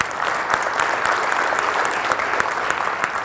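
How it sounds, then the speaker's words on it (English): Sustained audience applause at a school district awards ceremony, a full crowd clapping steadily and loudly with sharp individual claps standing out, no talk over it. "Big round of applause."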